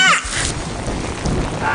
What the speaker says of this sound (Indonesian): Ya ampun, hujannya gede bener.